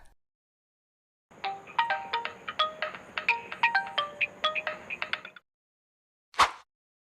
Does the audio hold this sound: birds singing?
no